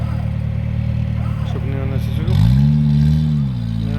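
Off-road vehicle climbing a hill during an off-road season opening event, engine droning steadily then swelling louder as it revs up the slope, with people talking over it.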